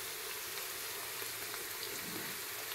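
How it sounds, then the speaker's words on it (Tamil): Onions frying in a pan for prawn biryani, a steady, even sizzle with a fine crackle running throughout, moderately quiet and close, with no voices. "வெங்காயம் நல்லா கோல்டு கலரில் வதங்குற வரைய வதக்கிக்கிறலாம்."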